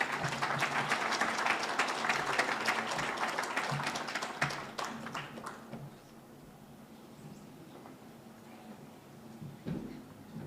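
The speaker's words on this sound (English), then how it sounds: "A hearty round of applause for the chief guest." An audience at an anti-corruption conference applauds loudly and densely, then the clapping thins and fades to scattered claps and room murmur.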